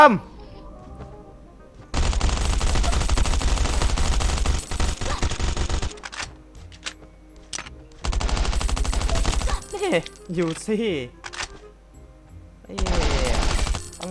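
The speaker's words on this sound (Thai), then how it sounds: "ได้ยินเสียงปืนอยู่นะ" Bursts of rapid automatic gunfire in the survival game Last Island of Survival come in three long loud volleys separated by quieter gaps, with a player's voice speaking between the shots.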